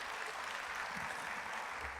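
A church congregation claps during a special prayer campaign service, a soft, steady patter of many hands lasting about two seconds and sounding faint and somewhat distant.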